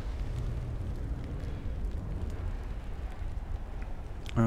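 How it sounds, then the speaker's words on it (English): A warship's ammunition magazine detonates in the naval combat game Ultimate Admiral: Dreadnoughts, a deep, sustained rumbling roar with crackling that holds steady for several seconds, loud and close. "And it detonated the ammo."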